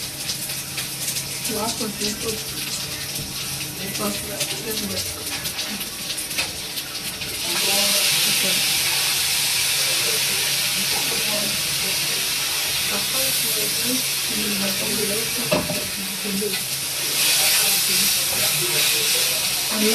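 Ground tomato paste sautéing in oil for a squid fry gravy, giving a close hissing sizzle that swells louder partway through, with clinks and stirring, while a person talks over it.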